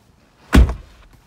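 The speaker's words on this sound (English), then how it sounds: "I'm gonna open the door so everything shuts down." The door of a 2016 Ford F-150 pickup gives a single short, loud mechanical thunk at close range in an otherwise quiet cab.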